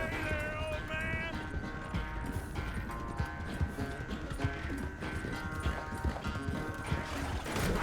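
Horse hooves clip-clopping in Red Dead Redemption 2, an irregular run of hoof thuds under layered game music and ambience, with a few sharper knocks and clatters along the way.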